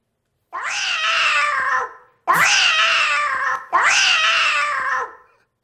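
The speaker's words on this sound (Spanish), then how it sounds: "Tengo un gato enojado." An angry cat lets out three long, loud, drawn-out yowling meows in close succession, each separated by a brief pause, with no talk.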